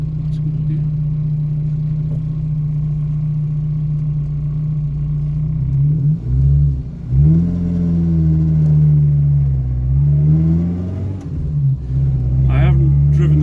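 A loud car engine drones steadily up close, its pitch rising and falling as the vehicle accelerates and eases off while driving.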